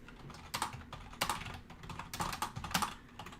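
Typing on a computer keyboard during a live gaming stream, with irregular bursts of clacking keystrokes over a steady low background hum, close to the microphone and without talk.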